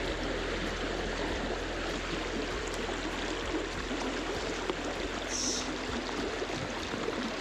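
The East Walker River flows in a steady, broadband rush of stream water, close and constant from start to finish, with no voices.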